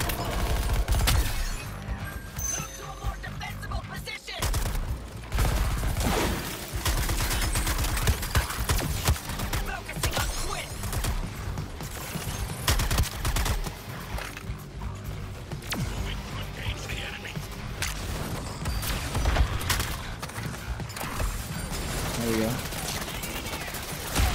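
Rapid bursts of weapon fire from the video game Suicide Squad: Kill the Justice League, dense and continuous, with a player talking over the shooting.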